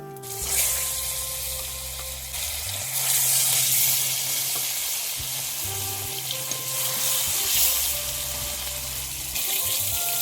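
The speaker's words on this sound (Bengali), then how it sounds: "এক ভাজা হয়ে গিয়েছে আর এক পিস উল্টিয়ে দেব" Pieces of silver carp fish fry in hot oil in a pan, giving a loud, continuous sizzle that swells and eases in waves, with a low hum running beneath it.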